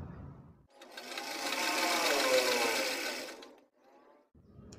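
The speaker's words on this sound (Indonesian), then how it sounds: "Kemudian ini kita jahit." Sewing machine stitching fabric for a child's house dress, one continuous run of about three seconds with quieter handling noises before and after.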